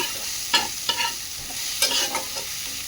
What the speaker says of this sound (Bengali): এখানে পেঁয়াজ কুচি দিয়ে দিলাম মাছের সাথে এগুলো এবার ভালো করে ভেজে নেব